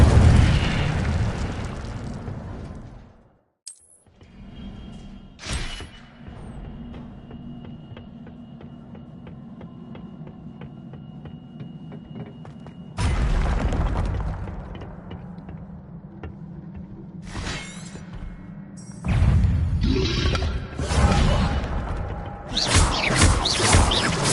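Fire spells cast in Hogwarts Legacy, heard as roaring, booming bursts that come and go in several loud waves between quieter stretches of ambient tone.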